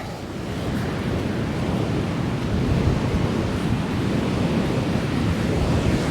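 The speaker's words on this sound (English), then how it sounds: "The waves are rolling in here." Ocean waves roll into a small rocky bay near Coogee Beach in Sydney during an East Coast Low storm. The surf makes a steady, loud, unbroken roar, with wind buffeting the microphone and no voices.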